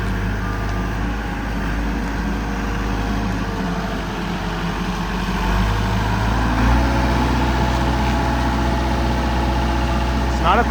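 A used wheel loader's diesel engine idles steadily and close, a continuous low rumble that rises slightly partway through, with someone talking over it.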